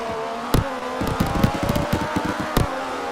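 F1 race cars compete in a Mexico Grand Prix, their engines giving a sustained high harmonic whine broken by sharp, loud bursts as cars pass close by in quick succession.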